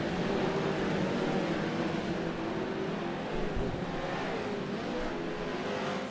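Dirt late model race cars roar around a dusty track at the start of a green flag race, a loud, continuous wall of engine noise with revving swells from the pack.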